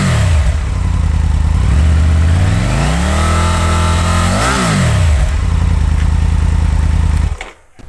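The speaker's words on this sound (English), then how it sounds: "Definitely the exhaust note gives that sense of a rougher, meaner, twinnier type bike." A Triumph Tiger 900 twin-cylinder adventure motorcycle revs loudly up and down, its rough exhaust note climbing, peaking and falling back to idle before cutting off abruptly.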